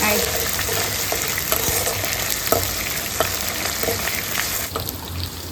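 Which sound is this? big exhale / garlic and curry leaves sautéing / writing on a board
garlic and curry leaves sautéing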